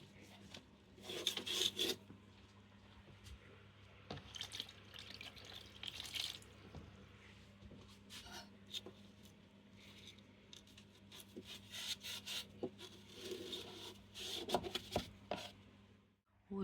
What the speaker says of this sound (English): I've started doing a bit of sanding and stripping off the wallpaper